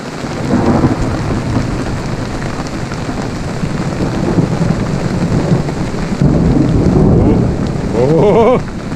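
Heavy downpour in a thunderstorm by a river at a riverside camp, a steady loud roar of rain with deep rolling thunder close by, continuous throughout with no talking.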